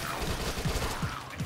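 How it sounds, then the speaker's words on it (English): Submachine gun firing in Dead Nation, a rapid burst of dense, continuous shots lasting about a second and a half, loud and close with no voices. "SMG."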